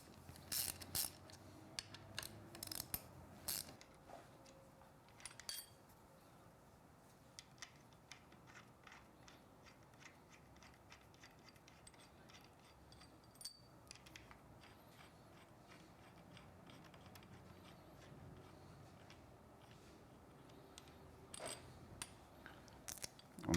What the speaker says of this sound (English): Now we'll remove the handlebar clamp using a 6mm Allen hex bit